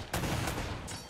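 Gunfire in the video game Uncharted: a quick burst of shots from an enemy shooter firing from the left, loud and close.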